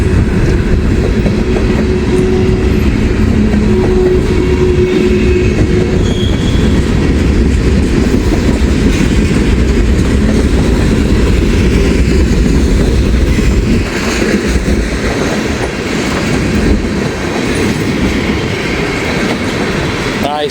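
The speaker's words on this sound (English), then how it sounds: "This mixed manifest is long." A long mixed manifest freight train rumbles past close by in Hamilton, Ohio, a loud steady roar with rhythmic wheel clatter and occasional faint squeals, continuing for the whole stretch.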